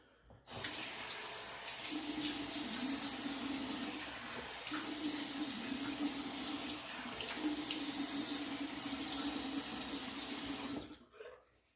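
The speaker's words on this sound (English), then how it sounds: "I rinse my head, and then I reapply the shaving cream" Water runs from a tap into a sink while the head is rinsed mid-shave, a steady close hissing stream with a few brief changes in flow, shutting off just before the end, with no talk.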